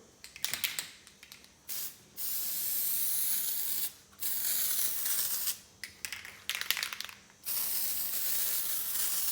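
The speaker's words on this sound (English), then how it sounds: "I'm going to spray this first, and that's going to give it the protection that it needs when we weld it." Aerosol can of weld-through copper primer sprayed onto caravan panels in several hissing bursts of varying length, separated by short pauses and faint can rattles, close to the microphone.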